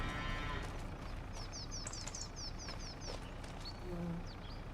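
Cows moo at a distance in the Farming Simulator 25 game, with several drawn-out low calls among chirping birds and a quiet farm backdrop.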